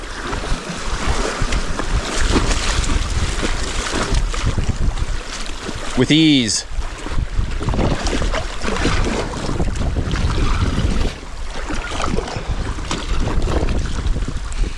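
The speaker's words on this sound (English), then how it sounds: "there's such a big counter wind" A strong headwind buffets the microphone while kayaking on an upper river in Wyoming's Wind River range. Loud, continuous rushing gusts dominate throughout, with a brief spoken phrase partway through.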